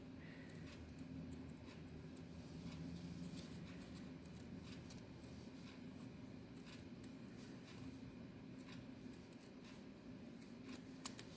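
Faint snips of scissors trimming paper pieces for a winter collage artist trading card, soft scattered cuts under a quiet room hum, with one sharper click near the end.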